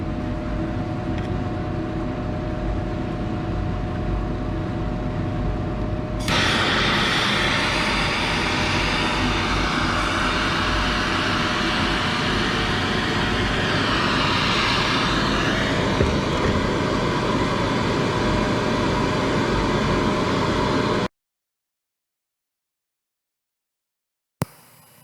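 Two MAPP gas torches roar steadily while heating a damp blob of silver in filter paper, a loud broadband rushing hiss that thickens as the second flame joins, then cuts out abruptly near the end.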